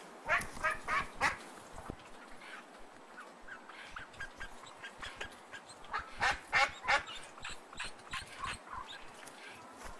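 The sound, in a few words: upset duck quacking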